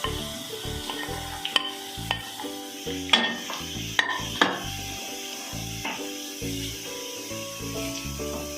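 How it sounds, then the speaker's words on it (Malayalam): Kanthari chilies hit hot oil in a pan for a mango and carrot pickle, a steady sizzle and frying hiss with scattered clinks and scrapes of a stirring spoon against the pan, close up and without talk. "ഈ കാന്താരിയോടെ നമുക്കിതിനകത്തേക്ക് ഇട്ട് കൊടുക്കാം"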